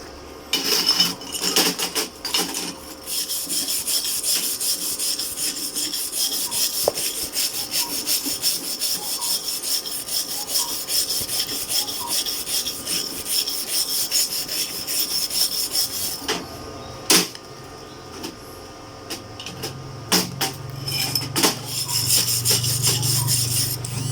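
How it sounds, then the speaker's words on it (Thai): Power grinder smoothing a bead of 0.8 mm flux-core wire weld laid with a Kanto MIG/MAG 3-in-1 welder, with heavy spatter on the steel; steady loud abrasive rasping runs nearly continuously, with brief pauses and a lower rumble near the end. "เดี๋ยวเรามาลองขัดดูครับ"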